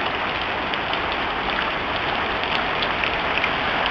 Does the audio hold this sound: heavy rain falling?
yes